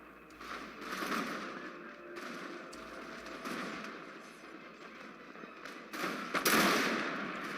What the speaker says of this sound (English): here we see the troops are going to shoot here in ranks